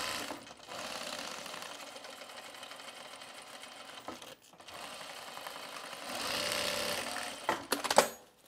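Sewing machine stitching an oven mitt with a round edge, a steady close whirring run that pauses briefly midway, restarts, then ends in a few clicks and knocks.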